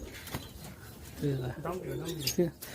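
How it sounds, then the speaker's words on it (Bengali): At a pigeon farm, a ball pigeon gives low, throaty coos in short bursts nearby, with a person talking in the background. "এটা হচ্ছে আমাদের যে বল কবুতর, দেখেন এটা বল কবুতর।"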